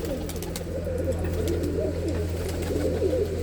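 Pigeons coo in a large netted aviary, several birds overlapping in soft rolling, throaty calls that carry on continuously at close range with no talking.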